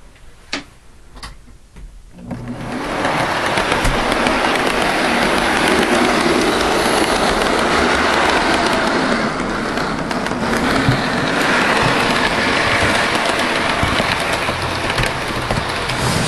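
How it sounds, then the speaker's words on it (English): A model Amtrak passenger train runs steadily along its track with a continuous whirring, clattering rush, starting after a couple of quiet seconds and holding a loud, even level. "So there's the Amtrak train."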